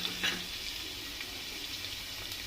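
Ginger and chopped garlic frying in a pan, a continuous bright sizzle with a brief stir at the start, close and steady.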